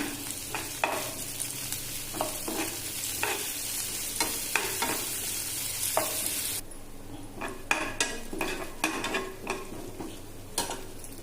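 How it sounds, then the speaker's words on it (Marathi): Onion sizzles in hot oil for tempering, with a bright steady hiss and repeated spatula scrapes and clinks against the pan; partway through the hiss drops away and the stirring clatter continues. "आणि तेलामध्ये कांद्याची मी फोडणी करते"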